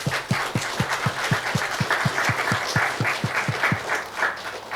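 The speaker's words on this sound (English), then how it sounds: "So firstly, just a little round of applause for you guys." A small audience applauds board members at the launch of the Women in Construction Hub North West panel, with a brisk, moderately loud spatter of clapping, some individual hand claps standing out in a rapid regular rhythm.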